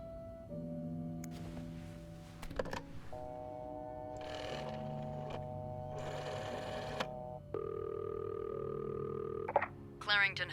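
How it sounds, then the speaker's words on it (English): A hotel reception telephone rings in the video game This Bed We Made, a series of electronic ringing bursts separated by short gaps, heard clearly with light clicks at the end. "Oh, the phone."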